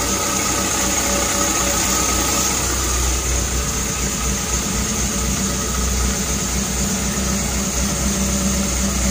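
Carbureted engine of a Toyota Kijang Zebra Espass idles after long storage in a garage, a loud, steady, close rumble with a constant even hum and no talk over it.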